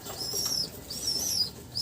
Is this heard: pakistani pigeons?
yes